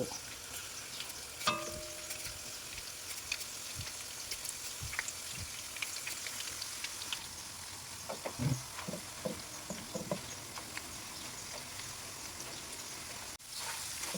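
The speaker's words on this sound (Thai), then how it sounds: "ทอดไปแบบนี้เรื่อยๆจนกว่ากล้วยจะหมด" Raw banana slices, peel still on, fry in hot oil with a continuous, even sizzle. A few light clinks and stirring knocks sound faintly beneath it, and no one speaks.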